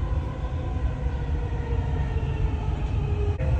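Dubai Metro train running, a continuous loud rumble and rolling hum of wheels and motors inside the carriage, steady throughout, with a faint click near the end.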